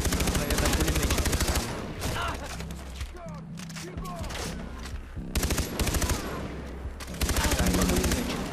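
Machine gun fire in Far Cry 3 rattles in rapid, loud bursts, with sustained automatic fire at the start, middle and end, broken by quieter gaps of ambient game sound.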